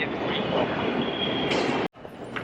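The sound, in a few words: subway train arriving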